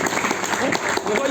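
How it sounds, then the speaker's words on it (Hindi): An audience claps at a live product presentation session, a brief burst of dense applause mixed with talking voices. "देखो ये ताली कम बजाओ"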